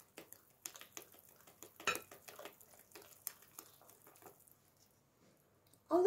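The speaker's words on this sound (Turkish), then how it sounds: "öncelikle bu malzemelerimi karıştırayım" Pogaca dough ingredients being mixed in a bowl, giving soft scraping, clinking and squishy stirring strokes in an irregular rhythm, close and fairly quiet, ending in a louder clatter.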